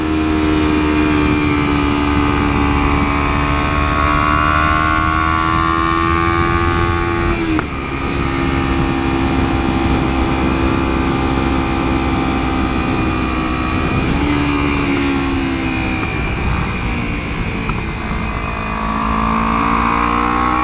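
Kawasaki Ninja 300 motorcycle fitted with clip-on handlebars, engine revving high while riding, a loud sustained buzzing whine that climbs in pitch, briefly drops at gear changes, then rises again.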